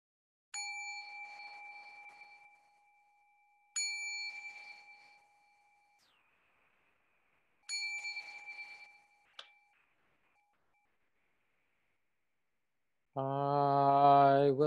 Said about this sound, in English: I'll ring the bell to begin.